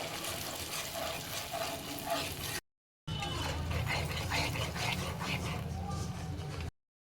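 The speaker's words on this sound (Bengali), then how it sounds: "কাজু, পোস্ত আর কাঁচা লঙ্কা পেস্টটা দিয়ে দিচ্ছি। ভালো করে নাড়বো চাড়বো।" A paste of cashew, poppy seed and green chilli is stirred in a hot pan, giving steady, close sizzling and scraping in two stretches split by a brief silence.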